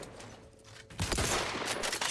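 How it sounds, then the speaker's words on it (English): Sudden burst of gunfire in The Outer Worlds 2, a loud rattle of rapid shots erupting after a quiet moment and continuing steadily to the end. "He's shooting me over here."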